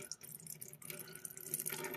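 Water poured slowly from a container onto tomato seeds, a soft, close trickle and splash that wavers and swells slightly, fairly quiet with no talking.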